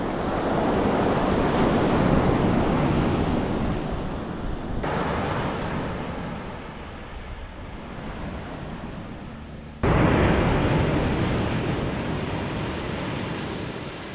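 Surf breaking and washing along the Pearl Beach coastline, a steady broad roar with gusts of wind buffeting the microphone, continuous and fairly loud with no voices.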